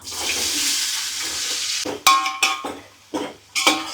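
Onions and green chillies hit hot oil for mutton biryani: a steady hiss of frying, then several sharp clanks and scrapes of a metal spoon stirring against the pan.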